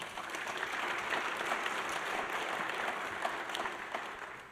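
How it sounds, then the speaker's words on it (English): An audience at a speech on probation and justice work gives a round of applause, steady, dense clapping from a crowd that swells slightly and holds throughout without talk over it. "Can I have a round of applause for them"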